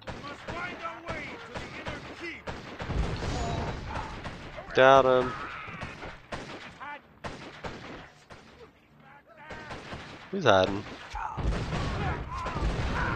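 Cannon fire in a video game sounds as a series of booming blasts with sharp attacks, mixed with other in-game gunfire and effects, while several players talk over the action.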